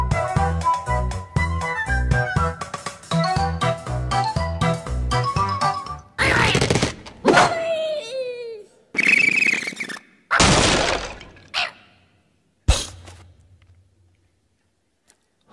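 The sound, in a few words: Angry Birds video game sound of a bird launched, hitting pigs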